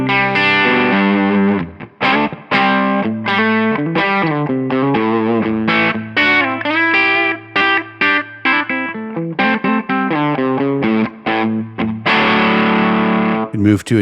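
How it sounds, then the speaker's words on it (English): Heavily distorted electric guitar, plugged straight into an iRig USB interface through Tonex amp simulation, plays a fast, choppy riff of chugging chords and bends, loud and dry with no voice. "You're hearing the high-quality audio coming from my guitar plug straight into iRig USB"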